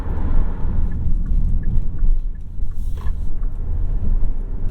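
A 2021 Hyundai Santa Fe Hybrid SUV drives in Eco mode, giving a steady, loud low rumble of engine and road noise that carries on without a break and without talk.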